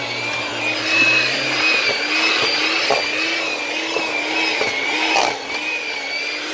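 A loud, steady motorized drone of an electric mixer whipping potato filling for pierogies, with a slight wavering pitch and a few clunks of the beaters against the bowl; no talking.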